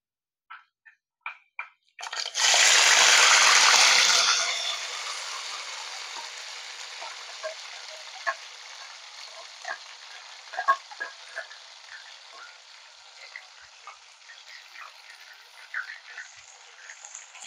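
Onion paste drops into hot oil with browned fenugreek seeds for a Telugu fish curry, giving a loud, close hissing burst that settles into lighter crackling and popping frying.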